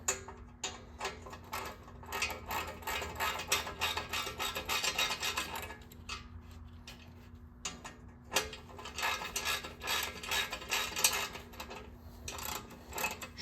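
Bolts on a 2009 Police Special motorcycle fender are run in by hand without being snugged tight, making a steady stream of small ticking and ratcheting clicks, fairly quiet and close.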